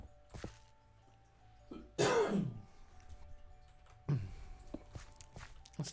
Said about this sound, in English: There's still a little bit of a chesty cough that I've got from my cold